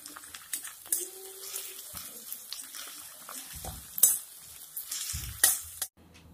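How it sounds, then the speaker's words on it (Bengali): Chopped onion and garlic fry in a pan, sizzling softly and unevenly, with occasional scraping and stirring clatter and a few sharper knocks before the sound cuts off abruptly. "পেঁয়াজটাকে একটু বাদামি কালার করে ভেজে নিতে হবে।"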